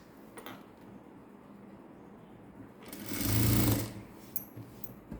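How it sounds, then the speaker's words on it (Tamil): A sewing machine stitches along curved fabric for thread piping, a single short burst of whirring motor and needle running for under a second amid quiet room handling. "ஃபுல்லாக ஸ்டிச் பண்ணிட்டோம்."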